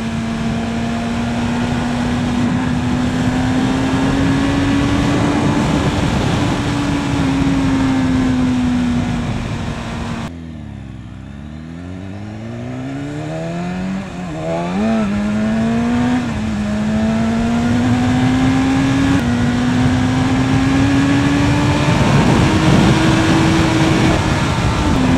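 A 2015 BMW S1000RR motorcycle engine runs loud and close with a steady high whine, dips mid-way as revs drop and swoop through sweeping shifts, then climbs back to a sustained drone.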